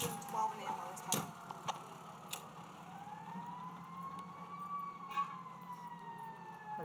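A fire engine siren wails, rising and falling as it arrives at a staged two-person crash scene at Great Oak High School, heard from moderate distance under background noise, with brief clatters.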